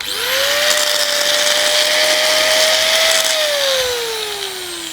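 Faulty angle grinder running on AC power, a loud, steady high-pitched whine with harsh broadband noise that holds for several seconds, then its pitch sags as it begins to wind down.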